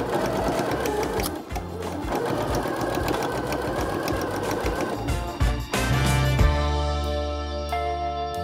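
A sewing machine stitches bias binding at a fast, steady rhythm, close and loud, with a brief change in pace near the end.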